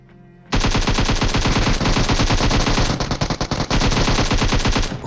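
Sustained automatic gunfire from a battle royale video game, with loud, dense, rapid bursts running continuously for several seconds after a brief quiet start.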